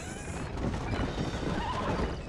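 Horses neighing and galloping in Red Dead Redemption, a loud whinny over dense pounding hoofbeats and rumbling motion, continuous and close throughout.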